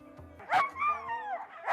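Sled dogs in ten-dog teams at the start line of a sled-dog race yap and whine excitedly up close, a burst of yips and a sliding, whimpering bark overlapping in quick succession.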